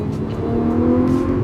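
A Lamborghini supercar engine revs and accelerates close by, a steady, loud, rising roar with a sustained tonal whine building through the short burst, no voices.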